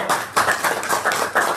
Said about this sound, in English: Put a round of applause for Laurie